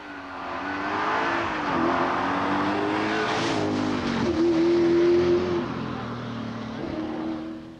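A 300-horsepower V8 Rover Group A rally car at the 1985 Circuit of Ireland rally, its engine revving hard and close with a steady throaty drone, rising and falling through gear changes, then easing back near the end.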